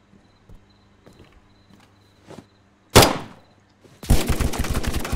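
Gunshots in the tactical first-person shooter Zero Dark: quiet footsteps and shuffling, then a single sharp loud shot, followed by a sustained close burst of rapid fire.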